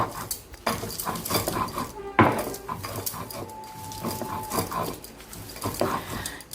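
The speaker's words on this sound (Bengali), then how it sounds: "শুকনো লঙ্কা রসুন যা শক্ত জিনিসগুলো রয়েছে আমি বেটে নেব পাতার সঙ্গে ভালো করে মিশিয়ে নিচ্ছি" Taro leaves are ground by hand with dry chilli and garlic, probably on a grinding stone, giving repeated scraping, knocking and rubbing strokes with a sharp clack partway through, close and moderately loud, with no talking.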